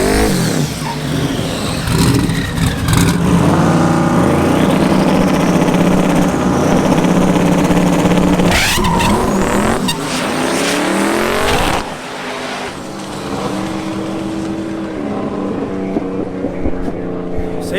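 Drag race car at LS Fest struggling to launch off the line, its engine roaring loud and close with rising revs and shifting pitch, then fading into a quieter, more distant rumble with crowd ambience.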